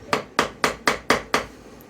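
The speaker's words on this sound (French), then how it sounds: "Petit coup de marteau, histoire de réveiller la machine." Six sharp, evenly spaced hammer taps strike a Bernina Record 7 sewing machine during repair, each a crisp close metallic knock with a brief decay, with no talking.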